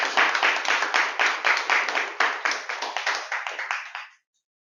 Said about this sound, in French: On peut applaudir un dynamique président.